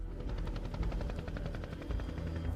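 Several military helicopters carrying an infantry company to a landing zone near the Chu Pong mountain, their rotors thudding loudly and continuously in a steady, rhythmic beat with no talking.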